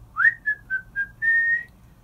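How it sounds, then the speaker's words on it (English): A man whistles while building a house on the sand: a rising note, three short clear pips, then one long held tone, close and alone. "he whistles as he works"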